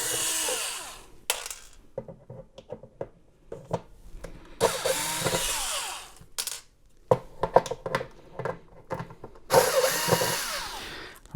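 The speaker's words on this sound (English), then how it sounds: "There's just four little screws to just pull out to get this cover off." Screws being backed out of the cover of a Sentry safe model 1250 with a power driver, several short whirring bursts broken by pauses, clicks and small metallic rattles, close up with no talking.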